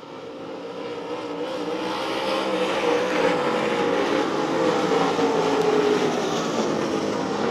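Race cars on a dirt speedway pass as a dense wash of engine roar that builds and stays loud, several cars blending together at a distance.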